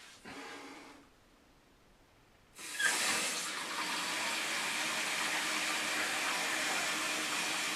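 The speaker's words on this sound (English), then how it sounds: "I hear water. We're going to give that a minute to make sure it cuts off." Water hisses into a toilet tank through a newly installed fill valve, with a brief burst, a pause, then a steady loud rushing refill sound.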